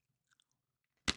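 Beef-flavoured Hula Hoops crisps give one loud, close crunch near the end, after a mostly quiet stretch with small mouth sounds.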